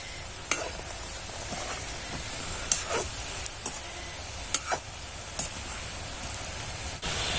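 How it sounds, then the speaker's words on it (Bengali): Pitha rice cakes deep frying in white oil in a wok, a steady soft sizzle with scattered sharp crackles and pops throughout. "খুব ভালো করে ডিপ ভাবে একটু ভেজে নেব।"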